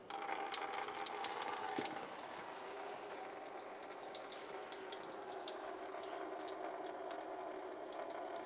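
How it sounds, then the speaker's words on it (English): Coolant drains from the radiator drain of a 2005-2010 Dodge Dakota, a steady close trickling and splashing wash of liquid that runs unbroken for the whole stretch, a little stronger at the start. "Let's turn this counterclockwise to start loosening it and drain the coolant."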